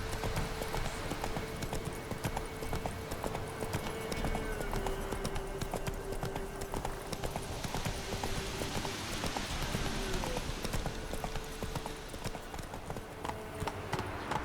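Hooves of Geralt's horse Roach in The Witcher 3 clip-clop in a steady, continuous trot throughout, close and even, under a constant bed of ambient game music.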